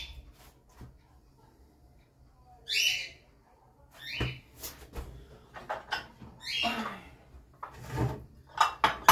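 Dishes and plates being stacked into a kitchen cupboard, several loud close ceramic clinks and knocks, then the cupboard door bumping shut amid rattling.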